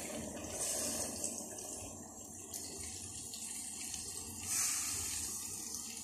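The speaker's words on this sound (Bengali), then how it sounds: "পানিটা দিয়ে ঢেকে দিলাম।" Running water splashes steadily into a cooking pot for a fish curry, a continuous hissy pour with a brief surge near the end, no voices.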